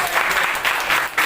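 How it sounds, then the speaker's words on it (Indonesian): Classroom of students clapping together, a steady dense patter of many hands sustained throughout with slight swells, close and moderately loud. "Tepuk tangan dong, tepuk tangan dong."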